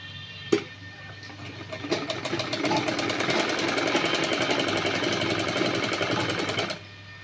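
A sewing machine stitches fabric in a close, rapid mechanical chatter, starting after a sharp click and running steadily for several seconds before stopping abruptly.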